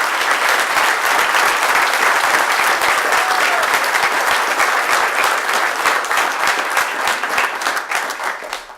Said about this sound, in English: Let's give these men and women a round of applause again.